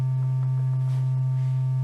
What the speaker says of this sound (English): I'll plug it into the triangle wave.